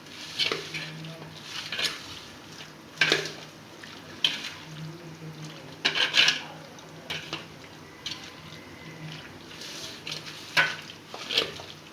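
A spoon slowly mixes chana chaat in a bowl, giving soft, irregular scrapes and clinks against the dish at intervals, close and fairly quiet.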